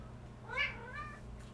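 A domestic cat meows indoors, two drawn-out meows close together and a faint third, fairly quiet over a low steady hum.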